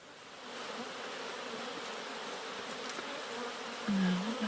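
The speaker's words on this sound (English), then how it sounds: "when they come back they dance on the surface of the hive to tell the other bees where to go" Honey bees buzz in a hive in a dense, continuous drone that holds at a steady moderate level and swells slightly near the end.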